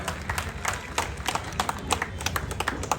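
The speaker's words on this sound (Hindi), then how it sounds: "एक बार जरा जोरदार तालियां बजाकर पुरी साहब का स्वागत करें" An audience claps to welcome minister Hardeep Singh Puri at a Jan Aushadhi Diwas event in Inderpuri, North Delhi, with sharp, dense hand claps sustained loudly throughout.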